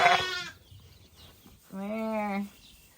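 Bottle lamb bleating twice, a short nearby cry followed by a longer, wavering bleat after a brief pause, with quiet background noise in between.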